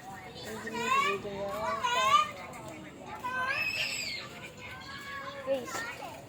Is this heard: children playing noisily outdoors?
yes